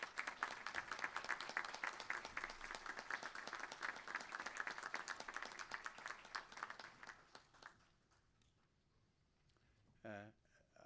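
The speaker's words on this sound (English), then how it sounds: "express thanks for the support you have received over the years by" Graduates at a Griffith College graduation ceremony applaud their families and friends, a dense sustained round of clapping that fades out after about eight seconds, followed by a brief sharp sound near the end.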